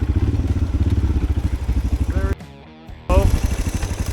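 A dual-sport motorcycle on a backcountry ride in British Columbia, its engine droning loud and close for about two seconds, cutting out for a brief quiet patch, then roaring back; a voice may be heard faintly in the mix.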